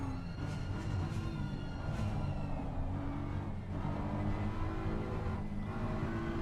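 Race car engine lapping the Nurburgring in Assetto Corsa Competizione, a loud continuous engine drone with rising and falling revs, throttle blips and a brief lift, steady throughout with no talk.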